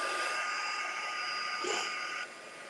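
A hair dryer blows a steady, even whoosh over a mixed media artwork, then drops to a softer hum as it is switched down near the end.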